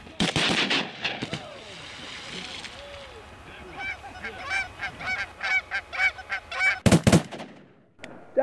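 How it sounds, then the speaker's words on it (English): Geese honk repeatedly during a duck and goose hunt in Alberta, a rising chorus of calls broken by a burst of close, loud gunshots, with people shouting and talking around it. "we had ducks coming in, we had geese doing it right"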